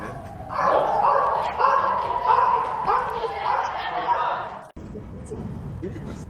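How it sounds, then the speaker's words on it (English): Dogs bark in a quick repeated run of yaps and yelps, close and fairly loud, for about four seconds before cutting off abruptly, leaving a low rumbling background. "Sets off car alarms and makes dogs start barking."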